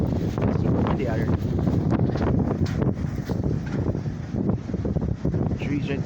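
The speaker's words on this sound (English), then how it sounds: "It's super windy out here." Strong wind buffets outdoors around a shed, roaring and gusting steadily against the microphone, loud and close throughout.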